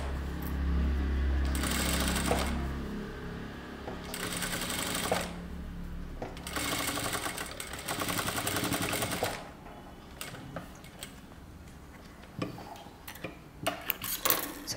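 Sewing machine running in several long bursts while stitching a concealed zip, steady rapid needle chatter separated by short pauses and lighter handling clicks toward the end.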